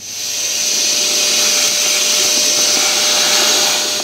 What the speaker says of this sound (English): So what we want to do is give that a quick vac out before you fit your new filter.